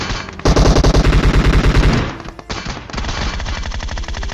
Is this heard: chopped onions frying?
no